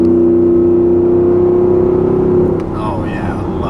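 Ford F150 pickup with a Borla ATAK exhaust revving, a loud, close, throaty drone that rises and holds steady, then eases off as the engine settles, with a voice speaking over it.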